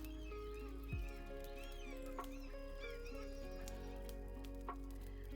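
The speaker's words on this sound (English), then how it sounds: "seagulls," A seagull ambience track from an app plays faintly: scattered squawking gull cries over a steady low hum.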